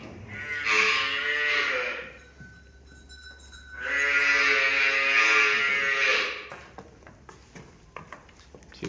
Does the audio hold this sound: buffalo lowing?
yes